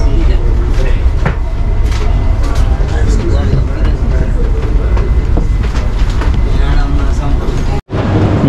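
A Dubai Metro train pulls into a station, a steady loud rumble and rail clatter filling the platform for several seconds before cutting off abruptly near the end, with people talking faintly underneath.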